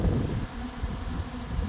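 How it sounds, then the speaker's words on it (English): A dense, continuous buzzing of many honey bees feeding on a wet honey super, steady and close, with a low droning hum that never lets up. "It's like a swarm, that. It's not, it's just bees, hungry. Hungry bees."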